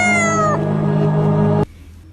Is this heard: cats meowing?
yes